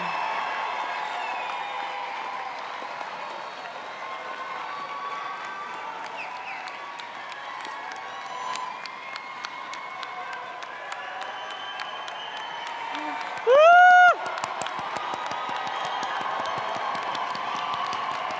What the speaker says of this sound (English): Give me a big cheer.